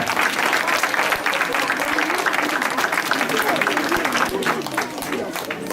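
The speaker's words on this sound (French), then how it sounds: "Je crois qu'on peut les applaudir." A large audience claps steadily in dense, sustained applause that stays loud throughout, with a faint crowd murmur underneath.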